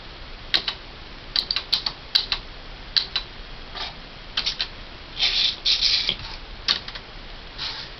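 A Smith Corona SL575 electronic typewriter gives irregular close clicks and clacks as keys are pressed one by one, with short bursts of rapid mechanical chatter between pauses and no speech.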